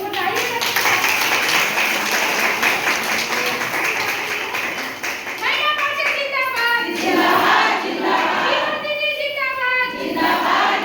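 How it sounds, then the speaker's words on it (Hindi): An audience claps to welcome Vibha Awasthi, state president of the BJP Mahila Morcha, at a party gathering. Dense, steady applause fills the first half, then a voice speaks over fading claps. "एक बार ताली"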